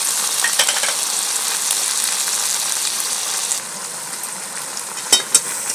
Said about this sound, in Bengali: এইগুলো এবারে একটুখানি ফ্রাই করে দিই।